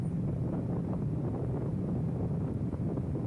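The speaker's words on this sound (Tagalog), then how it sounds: "As you can hear, talagang malakas ang hangin ngayon" Constant low roar of strong wind buffeting the microphone while riding a KYMCO Xciting VS400 scooter at speed around 4 a.m., with no talking.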